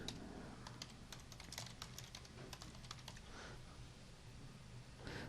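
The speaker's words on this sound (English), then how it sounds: "I'm going to type Network Connections." Light tapping on a computer keyboard, faint and close, in quick irregular bursts over a steady background hiss.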